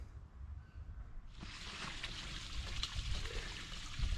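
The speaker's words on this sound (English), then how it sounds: "this is the water blade's first proper wet test" Water trickles from a newly built water blade feature on a formal garden pond during its first wet test, starting as a soft, steady flow and then filling in with a brighter, continuous splash that holds to the end.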